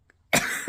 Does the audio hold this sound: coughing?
yes